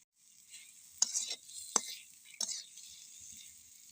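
A spatula scrapes and stirs soybean curry seasoned with Kashmiri chilli powder in a pan, a few distinct scraping strokes over a soft, steady sizzle, close and fairly quiet.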